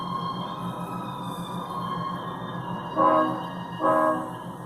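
A departing train sounds its horn in two loud blasts over a steady engine rumble, heard close at a station.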